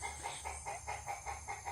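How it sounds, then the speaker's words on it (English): A rooster at a tropical sanctuary calls close by in a quick, even run of repeated pulsing notes over a low background hum. "excuse the rooster"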